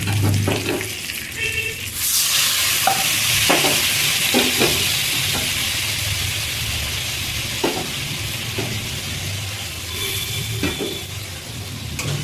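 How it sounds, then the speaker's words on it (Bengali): Spice paste with water being stirred in a frying pan for a Bengali parshe fish curry, a steady loud sizzle with repeated scraping strokes of the spoon running throughout, no talking. "এবার মশলাটা একটু ভালো করে মিশিয়ে নেবো"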